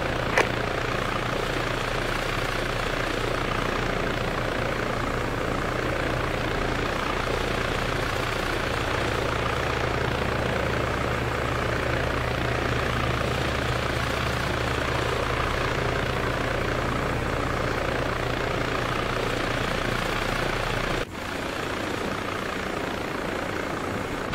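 A helicopter engine in the Arma 3 video game drones steadily at close range with a dense rotor roar, dropping slightly in level near the end; no talk.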